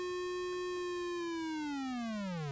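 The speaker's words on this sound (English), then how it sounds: "So now we can hear a square wave sounds different than a sine wave." A synthesized square-wave tone from a Teensy audio synthesizer holds a bright, buzzy steady pitch, then glides downward near the end; loud, close and alone.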